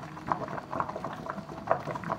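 Water bubbles at a rolling boil in a pot on a stovetop burner, with glass jars pasteurizing inside; irregular popping and gurgling bursts, close and alone.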